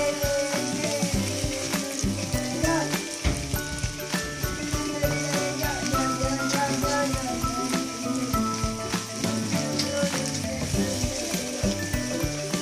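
Eggs fry and sizzle steadily in a pan while being stirred for an egg curry, a dense, continuous crackle with scraping stir strokes, fairly loud and close throughout.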